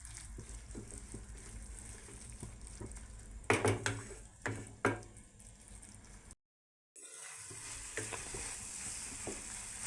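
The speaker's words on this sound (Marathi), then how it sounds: "याला एकदम व्यवस्थित मिक्स करून घेऊयात" Jaggery mixture for modak is stirred in a pan, giving a soft sizzle with scraping strokes and a few louder knocks of the spoon, quiet and close, with a brief silent gap near the end.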